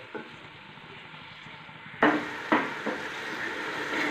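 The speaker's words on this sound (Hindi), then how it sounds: "तो जब ये तैयार होते हैं हम इसको इसी तरह हिलाते रहिए। आँच हमने मीडियम कर दी है" Matar pulao of peas and rice being stirred in a pot over a medium flame: a soft steady sizzle, then a few sharp scrapes and clatters of the spoon against the pot, close and clear.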